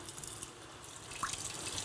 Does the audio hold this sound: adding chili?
no